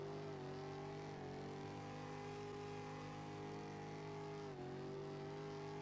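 Race car engine held on throttle in a street-series racing video game, a steady high droning whine with a brief dip near the end, quiet and continuous with no talk.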